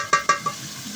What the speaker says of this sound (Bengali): এখন আমি একটু ঘি দিয়ে দেবো।